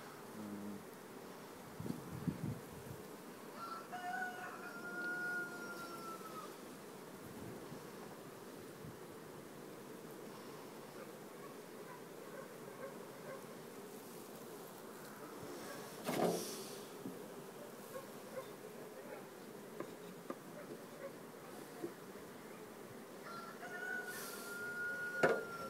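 Honeybees buzz steadily around a beehive, a faint continuous drone with a few individual bees passing close now and then, no talking.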